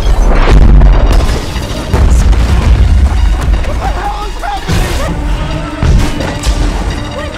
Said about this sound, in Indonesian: dan tidak lama, ledakan pun terjadi